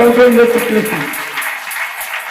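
Congregation at a Friday evening prayer service applauding and cheering for Jesus Christ, a loud, dense wash of clapping that begins with mixed voices and then gradually thins out.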